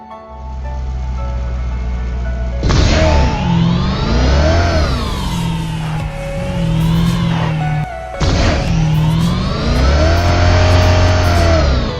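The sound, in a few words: car engine driving in the video game PUBG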